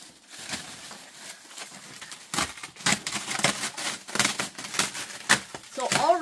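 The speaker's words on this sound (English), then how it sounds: "Let's go ahead and cut into this mystery pallet." Plastic wrap on a mystery pallet of boxed merchandise being sliced and torn open, a run of close, sharp crinkling rips and snaps that grow denser and louder toward the end.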